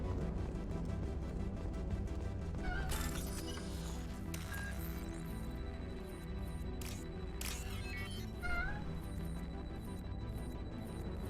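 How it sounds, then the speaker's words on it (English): Pet cat meowing for attention, a few short, faint, rising-and-falling cries spaced several seconds apart over steady video game background sound. "That's my cat, guys. Trying to get my attention"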